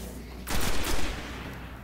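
In the PS4 beta of the video game Destiny, a sudden burst of rapid gunfire erupts midway, a dense rattling volley lasting under a second before fading into a low background hum.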